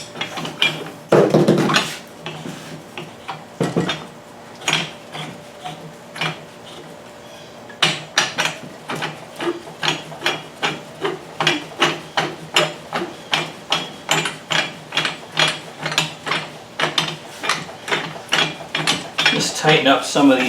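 Wrench work on the unions of a Rhino multi-pro post driver, a few early metallic knocks followed by a long run of rhythmic ratcheting clicks, close and fairly loud.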